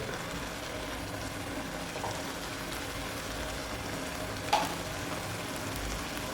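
Coconut oil and curry leaves sizzle steadily in a pan with banana peera, a constant broadband frying hiss with one brief sharper crackle partway through, close and alone without speech.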